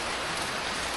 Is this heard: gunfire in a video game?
no